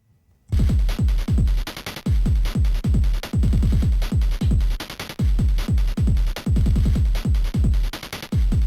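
Second drum loop for a Shin Megami Tensei III style battle theme bursts in after a brief silence, a dense, driving pattern of rapid heavy hits and fast rolls over a bright hissing wash, loud and busy throughout.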